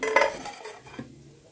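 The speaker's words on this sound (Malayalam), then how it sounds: "അവിടെ കുറച്ച് പാത്രങ്ങളുണ്ടായിരുന്നു, അതും കൂടെ കഴുകി വെക്കുകയാണ്" Pots, dishes and cutlery being washed in a home kitchen, with a few close clinks and scrapes of metal utensils at the start that fade into softer handling and running noise.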